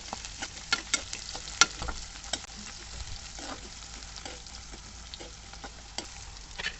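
Tempering fries for idli upma in a pan, stirred until light golden, a quiet sizzle dotted with frequent sharp clicks and scrapes of a spatula against the pan, close up and with no talk.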